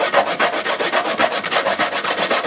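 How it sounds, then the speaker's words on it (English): Coconut scraped over a hand grater in quick, even strokes, a rhythmic rasping that repeats about eight times a second, close and steady with no voices. "we're gonna grate our coconut on this grater here"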